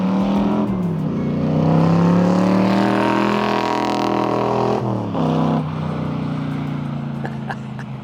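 A 1965 Backdraft Cobra replica with a manual transmission pulls away and drives off down a street, its loud engine revving and rising in pitch as it accelerates, then dropping back as it shifts and heads away.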